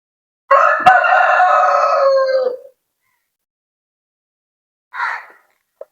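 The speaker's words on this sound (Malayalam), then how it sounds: "എൻ്റെ പൊന്നു കോഴി ഒന്ന് പറയട്ടെ" A rooster crows once, loud and close, in a long drawn-out call, then gives a short clucking burst after a silent pause.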